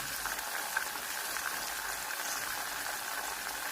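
Garlic sizzling in hot oil in a pan while making the sauce for Alexandrian koshari, a steady dense hiss and crackle with no talking.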